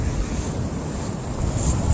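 Water washes in with a steady, close rushing hiss and low churning roar, mixed with buffeting wind on the microphone, swelling slightly toward the end.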